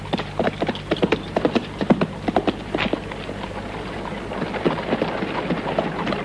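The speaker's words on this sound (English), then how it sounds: "Get those horses of yours moving, Tom." Horses' hooves clip-clop in a brisk irregular rhythm of sharp knocks, close and clear at first, then blurring into softer, denser hoofbeats over a low rumble, with no talk.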